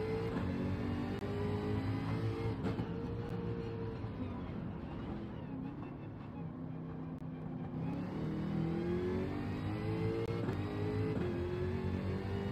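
Race car engines roar in Gran Turismo 7 at Bathurst, a continuous close engine drone rising and falling through gear changes as several cars run together, with a voice faintly underneath.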